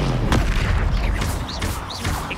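Confringo blast curse explosion in a Harry Potter video game, a loud booming burst with crackling impacts and whooshing effects, close and brief.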